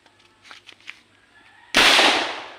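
Faint murmuring and small knocks, then one sudden loud blast from an improvised boga, a homemade firecracker cannon, its harsh crack decaying into a long noisy tail.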